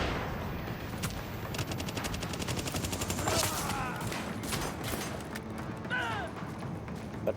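Rapid bursts of submachine gun fire in Tom Clancy's The Division, loud and close, with dense volleys of shots crackling in quick succession alongside other gunfire in a video game firefight.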